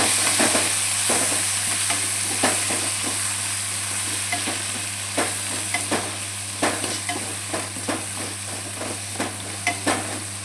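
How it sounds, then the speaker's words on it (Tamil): Chopped tomatoes frying with browned onions in a pan for omelette biryani, a steady loud sizzle with repeated clinks and scrapes of a spoon stirring at a regular pace, no voices. "ஸோ இந்த ஸ்டேஜில் வந்து நம்ம கட் பண்ணி வச்சுக்க தக்காளி சேர்த்துக்கலாம்"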